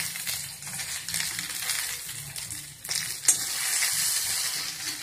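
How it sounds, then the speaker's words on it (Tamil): Mustard seeds, urad dal and green chilli frying in hot oil, a close crackling sizzle with scattered pops and spattering bursts, growing into a denser hiss toward the end. "இந்த மாதிரி நம்ம கடுகை தாளித்து இதெல்லாம் பண்ணி வச்சுட்டுருக்கோம்"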